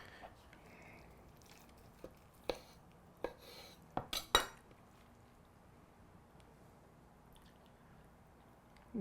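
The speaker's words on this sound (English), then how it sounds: "You can even hear it, the juices. It's just dripping." Juices drip from smoked BBQ beef short ribs: a handful of soft wet taps and squishy clicks come close together, faint and close against a quiet background.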